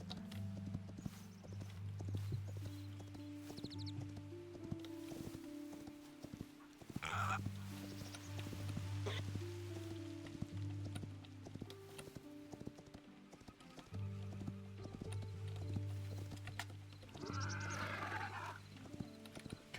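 Horse hooves clip-clop steadily in the Hytale video game, a regular rhythmic plodding over a looping musical drone, with occasional brief whinny-like sounds.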